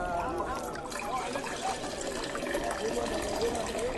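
Water pours steadily into stone jars, a continuous trickling fill at moderate level beneath a speaking voice.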